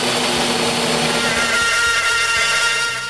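A power drill bores holes into a wooden cabinet tabletop, giving a steady, loud whirring hum with a gritty edge throughout.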